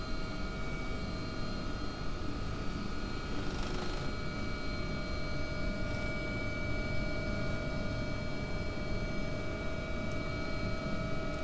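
An AW-139 helicopter in the X-Plane 11 flight simulator hums steadily with a constant rotor and turbine drone and whining engine tones, even and fairly faint throughout, with no talk.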